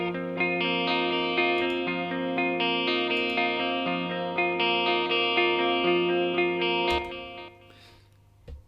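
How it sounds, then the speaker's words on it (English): Clean electric guitar plays sustained chords through the Overloud TH-U amp simulator with a subtle reverb, notes ringing steadily and evenly, then a brief decaying tail as the playing stops near the end. "the idea is to always use a subtle amount of reverb"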